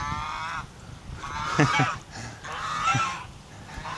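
Two angry geese at a farm honk loudly in harsh, overlapping bursts, calling back and forth close by over a few seconds.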